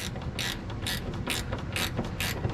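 A ratchet wrench tightens a part during a Vintage Air install on an E-body car, giving five evenly spaced, crisp clicking bursts at close range with no speech.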